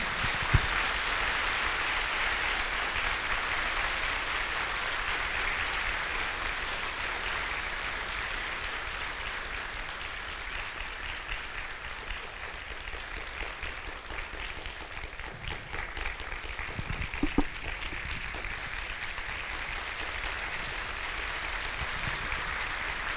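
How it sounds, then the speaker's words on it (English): A large audience at the Truth victory celebration in Hyderabad, 2023, applauds themselves in a long, steady wash of clapping that holds at an even level throughout, with a few brief sharper claps near the end. "Clap for yourself and open your eyes."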